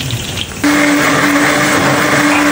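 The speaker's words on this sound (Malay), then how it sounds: "Sekarang kita nak blend satu lagi, yang 1 biji lagi. Bawang putih, halia, lengkuas." A kitchen blender starts up abruptly and whirs loudly and steadily while grinding garlic, ginger and galangal, close by and with no speech.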